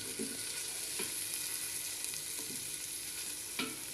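Onions frying for noodles in an electric rice cooker, a steady close sizzle filling the space, with a few soft spoon-stirring knocks spread through it and no talking.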